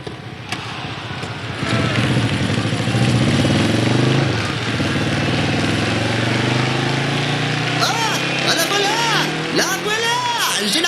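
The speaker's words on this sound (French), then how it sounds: "Eh bien oui, Yuki, je vais monter sur la moto suiveuse pour aller à la hauteur de la tortue." A following motorbike's engine drones steadily and loudly up close, its pitch shifting as it revs, with a voice talking over it in French.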